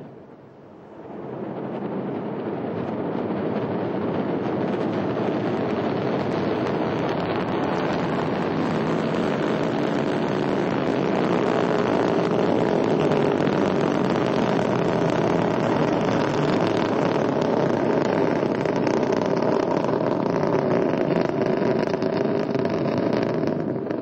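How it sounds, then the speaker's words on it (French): Ariane rocket lifting off to carry the ATV, Vulcain main engine and solid boosters igniting into a massive sustained roar that swells within two seconds and holds, heard from a distance and buffeted by wind. "Allumage Vulcain, allumage des EAP et décollage."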